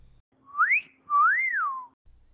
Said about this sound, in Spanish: se externaban piropos a las mujeres por medio de un silbido muy característico en 2 tiempos, uno largo y otro corto